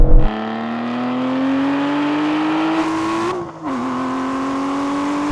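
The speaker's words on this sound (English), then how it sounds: "There's a bit of wheel spin on like the shift." Aston Martin V12 cars launching in a drag race, a loud steady engine howl rising in pitch as they accelerate, briefly dipping at a gear shift before climbing again, with no talk over it.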